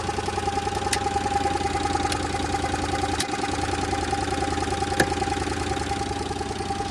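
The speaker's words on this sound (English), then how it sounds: "sounds like there might be a little bit of an exhaust leak in her somewhere" A Subaru Justy 4WD engine idles steadily with a possible exhaust leak, a continuous mid-low drone with faint knocking, heard close and alone with no talk.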